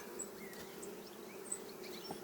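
A steady, dense hum of many honey bees buzzing together at an experimental hive, with individual insects whizzing past close by.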